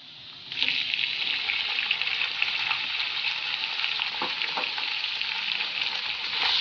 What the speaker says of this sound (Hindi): इसको मैं दो से तीन मिनट के लिए अच्छी तरह से भून लूँगी